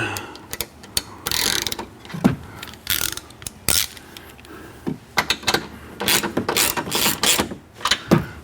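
A ratchet works a 13 mm bolt up top during an exhaust install on a BMW F10 M5, giving bursts of close, loud clicking with short pauses between runs.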